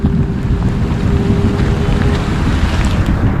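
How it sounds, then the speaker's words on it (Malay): Heavy rain pours down in a dense, steady hiss, loud and close, with wind buffeting the microphone and no voices heard. "Hujan makin lebat kan."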